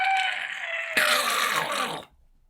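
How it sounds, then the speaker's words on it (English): A screeching horde of tiny spiderlings, voiced as a sound effect: a shrill, harsh chorus that swells suddenly into a louder, dense screech, holds for about a second, then cuts off abruptly, with no talk. "tiny spiderlings swarmed out in a screeching horde"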